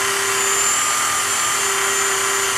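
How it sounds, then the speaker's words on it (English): A rotary tool whines at a steady high pitch while polishing the blued finish on a Glock 20 SF pistol, with a continuous loud buzzing and no pauses. "It's actually polishing the bluing on it."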